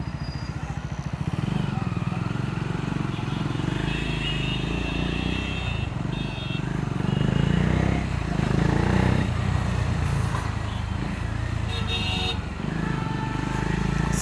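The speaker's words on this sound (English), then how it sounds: "Oh no, the traffic is horrible." Dense, heavy road traffic heard from a moving Triumph motorcycle fitted with a saddlebag, a steady engine and tire rumble with passing vehicles close by, continuous and loud throughout.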